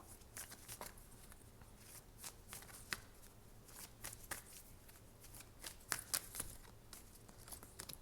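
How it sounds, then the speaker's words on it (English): Astrology cards are shuffled by hand in repeated quick riffles and soft slaps, crisp close papery bursts in an irregular rhythm over a quiet room, with no talking. "now I'm gonna go ahead and pull some astrology cards"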